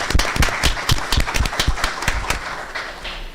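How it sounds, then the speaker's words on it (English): A school board meeting audience in Estill County claps in a burst of dense, uneven applause that rings out loudly at first and then thins over a few seconds. "I hope you will join me in giving her some recognition and a round of applause."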